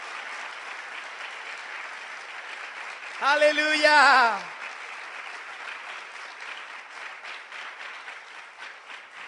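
A church congregation applauds steadily throughout, with a voice briefly shouting out loud over the clapping partway through.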